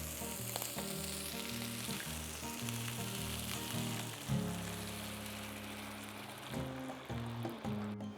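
A pan of sautéed chili, basil and oregano keeps up a loud, close sizzle with repeated stirring scrapes, the hiss briefly flaring midway as water goes in; no one speaks.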